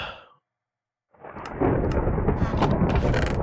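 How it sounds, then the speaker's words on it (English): A loud thunder rumble builds after a brief silence and rolls on as a deep, sustained roar with crackling bursts. "you hear the thunder?"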